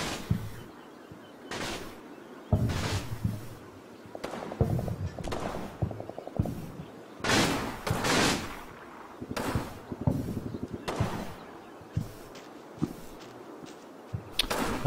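Machine-gun bursts and scattered gunfire in the WWII strategy game Combat Mission: Battle for Normandy, rattling out in repeated sharp volleys of varying distance across the whole stretch, with no talk over it.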